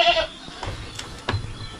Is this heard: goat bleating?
yes